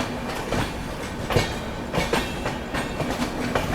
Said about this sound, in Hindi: और यहाँ पर किसी ट्रेन से अपनी क्रॉसिंग भी हो रही है।